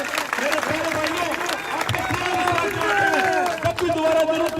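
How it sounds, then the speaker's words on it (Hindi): A political rally crowd in Lunkaransar applauds steadily, a dense wash of clapping that runs throughout beneath a speaker's amplified voice. "आप सब लोगों से अपील करता हूं जोरदार तालियां बजाकर हम दो नेताओं का उनसे धन्यवाद ज्ञापित करें"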